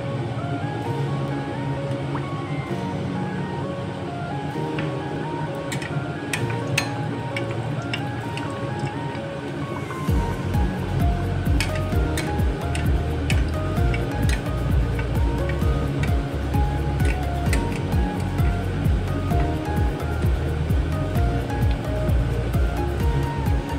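Peas kachori frying in hot oil, a loud continuous bubbling sizzle that swells noticeably partway through as the oil churns harder, crackling steadily with no voices.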